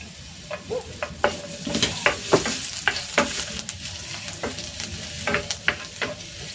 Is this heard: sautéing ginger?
yes